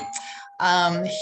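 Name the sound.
doorbell ringing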